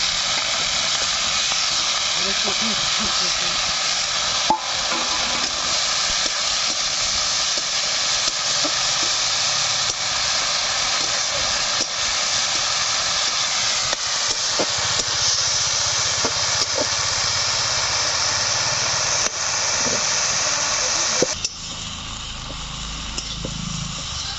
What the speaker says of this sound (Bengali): আর অল্প একটু হলুদ দিয়ে এই মাছগুলোকে আমি ভেজে নেব।